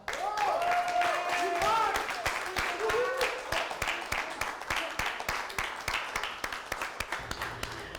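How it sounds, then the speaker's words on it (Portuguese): Audience applause for writer Sidney Leal at a poetry performance, a room of people clapping loudly at first, then thinning into scattered individual claps as it fades. "uma salva de palmas para o escritor Sidney Leal"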